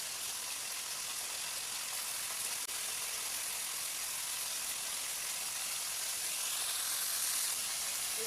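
Stingray fish frying in hot oil in a wok with turmeric, a steady broadband sizzle that holds evenly throughout at moderate level, with no voices.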